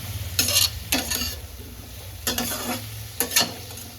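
Pumpkin pieces fry in a pan, sizzling under repeated stirring, with several distinct bursts of scraping and clattering spread across a steady background hiss.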